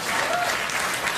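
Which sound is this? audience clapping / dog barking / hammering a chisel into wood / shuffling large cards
audience clapping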